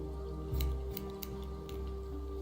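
Scissors snipping in The Walking Dead video game, a few quick metallic cuts sounding near and crisp over a steady low ambient hum.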